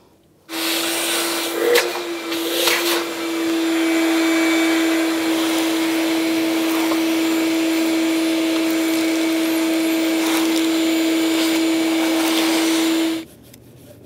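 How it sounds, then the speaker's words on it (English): A shop vac runs close by while vacuuming debris near an engine intake, a loud steady whine with a constant tone, briefly fluttering as debris is drawn in, then cutting off. "You can use a shop vac and try to vacuum it up as well."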